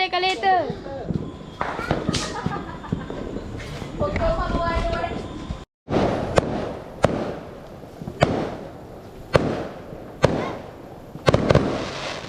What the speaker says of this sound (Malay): Bunga api Asyad.